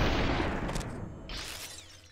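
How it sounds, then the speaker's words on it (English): Shotgun fire in the video game SUPERHOT, a loud, dense booming blast at the start that rolls off and decays over the next couple of seconds with no voices. "Wait, who's shooting at me? Another shotgun."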